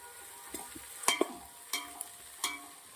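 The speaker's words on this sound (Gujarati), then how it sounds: "શાકભાજીને હવે આપણે થોડી ચડવા દેવાની છે સાથે આપણે આદુ લસણની પેસ્ટ નાખી દેવાની છે" Vegetables cooking in a pan with ginger garlic paste for a healthy homemade Manchurian, a faint low sizzle broken by a few sharp clicks and scrapes of a spoon stirring.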